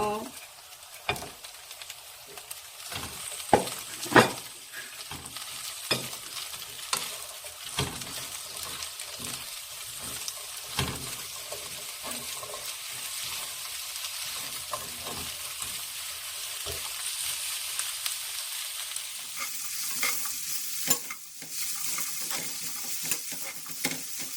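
Sausages fry in a pan with carrot and onion, a steady oily sizzle broken by repeated sharp scrapes and knocks from the stirring utensil, plus a few louder clatters near the start.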